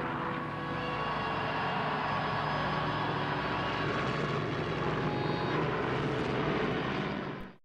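Japanese attack aircraft at Iwo Jima, a continuous loud droning roar of piston engines that holds steady and then fades sharply at the end, no talking.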